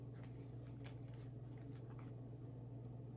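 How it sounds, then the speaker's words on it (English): Tarot cards being shuffled, a soft continuous papery riffling and brushing close by, with a steady low hum underneath and no talking. "Lots of cards flipped over while I was shuffling here."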